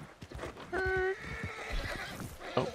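Close, loud horse neigh in Red Dead Redemption 2, a sharp harmonic whinny over scattered hoofbeats, followed by a short snort near the end.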